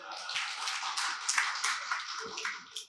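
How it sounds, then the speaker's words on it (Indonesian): Congregation clapping during a Malay-language Christmas church service, a brief burst of dense applause from many people in a hall, fairly close and steady, with a few voices mixed in. "beri tepukan"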